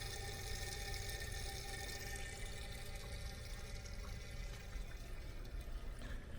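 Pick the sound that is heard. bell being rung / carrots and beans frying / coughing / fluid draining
fluid draining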